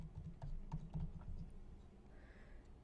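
Quick bursts of keystrokes on a computer keyboard, close and fairly quiet, a few irregular clicks then a pause.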